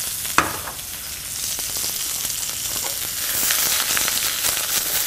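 Golden beets, baby carrots and half-moon white turnips sauté in a hot pan, giving a steady, close sizzle with a sharp clink as they are tossed near the start and a slightly louder frying hiss toward the end.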